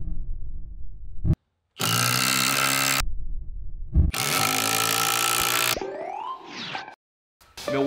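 Cordless impact drivers sink 3.5-inch lag screws into wood in two long, loud rattling bursts separated by silence, followed by a shorter whirring run with rising pitch, all close up and without talk.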